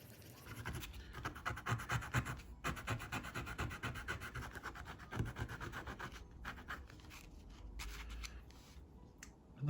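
A coin being scrubbed clean by hand with a brush, producing close, continuous scratchy rubbing strokes in an uneven rhythm with a few short pauses.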